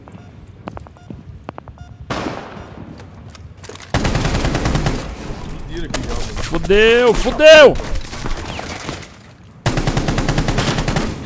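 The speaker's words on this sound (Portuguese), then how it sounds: "cá estou eu trocando tiro com o Termite" Bursts of rapid automatic gunfire from the video game Rainbow Six Siege during a ranked match, loud and close, alternating with short pauses while a player shouts excitedly over them.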